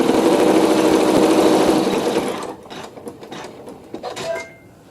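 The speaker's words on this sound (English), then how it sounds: "neutral thread in the needle, and I'm stitching the seam" A sewing machine stitches a fabric seam with neutral thread in a close, loud, rapid whirring run for a couple of seconds, then stops, leaving soft handling clicks and rustles.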